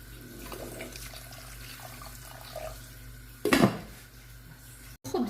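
Warm water is poured into a pan of fried chicken breast, parsley, garlic, onion and eggplant for a tagine, a brief splashing pour after quiet kitchen clatter, with a short sizzle-like burst near the end.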